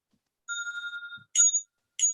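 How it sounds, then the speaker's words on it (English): A bell rings once to signal that time is almost up in an oral mathematics exam, a clear sustained metallic ring that then fades into short, brighter chimes, heard alone in quiet. "you will hear a single bell ring 3 minutes before your time runs out"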